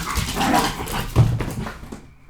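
Dogs close by give a short burst of barks and whimpering yelps, loud at first and then trailing off.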